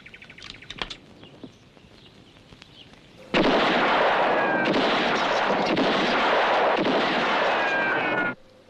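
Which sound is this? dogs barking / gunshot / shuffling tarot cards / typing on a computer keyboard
gunshot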